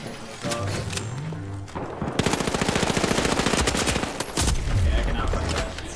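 Gunfire in the video game The Finals, loud rapid automatic bursts with heavy thuds and a long sustained stretch of fire, with a voice speaking over parts of it.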